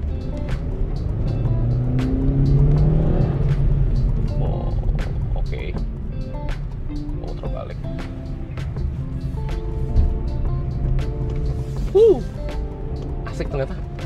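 A 2023 Suzuki XL7 Hybrid accelerates from inside the cabin, a steady low engine drone holding under ongoing conversation with a few small clicks.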